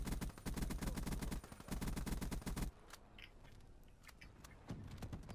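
Rapid automatic fire from the Weevil in Black Ops 3 rattles in dense bursts, then stops, leaving scattered single shots and distant pops before a brief final stutter of fire.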